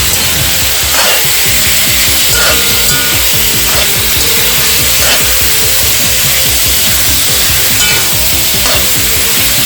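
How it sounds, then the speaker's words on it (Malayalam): Coconut and tomato chutney being stirred in a pan, giving a steady scraping and sizzling texture with soft periodic strokes about once a second, close and fairly loud with no talking. "ഇനി നമുക്കിത് ഇളക്കി കൊടുക്കാം"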